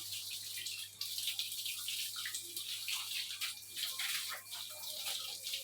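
Water is poured over a cow during its bath, splashing and streaming in a continuous rush with brief bursts and drips, close by and without speech.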